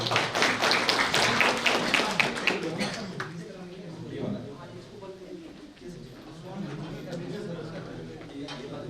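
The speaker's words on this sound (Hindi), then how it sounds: "आपके लिए जितनी तालियां होगी।" Applause for a speaker at an all-India neurotherapy convention: dense clapping fills the opening seconds, then thins and fades as voices take over.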